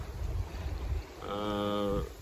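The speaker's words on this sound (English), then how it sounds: "It's raining, it's windy, we are rolling downwind." Steady wind roaring across the microphone alongside low rumbling water noise aboard a yacht sailing downwind in rain off Tallinn, with a tonal whine rising partway through.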